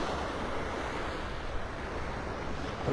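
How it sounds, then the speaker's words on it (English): Steady wind blows across the beach at Delnor-Wiggins in North Naples, Florida on a cool morning, a constant broadband rush mixed with rolling surf, loud and close to the microphone with no one talking. "That's what gets me in these cool mornings, is that doggone wind."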